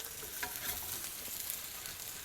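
Impossible Burger vegetarian patty sizzling in hot oil just after a flip, with melted cheese on top; a steady, fairly quiet crackling fry with small pops throughout and no talking.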